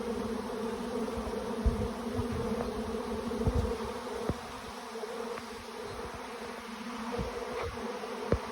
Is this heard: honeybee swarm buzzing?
yes